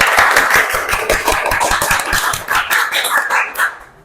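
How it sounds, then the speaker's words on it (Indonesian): Classroom applause from students clapping together for everyone in the class, a dense run of quick hand claps lasting several seconds before tapering off. "Tepuk tangan untuk kita semua."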